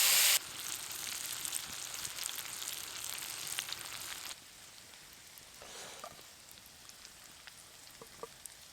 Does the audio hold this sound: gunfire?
no